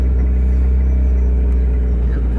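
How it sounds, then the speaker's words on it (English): A Jeep rock crawler engine rumbles loudly and steadily at low pitch, close by, throughout a bumpy ride, with faint knocks and rattles over the drone. "I hope the engine noise ain't too much either"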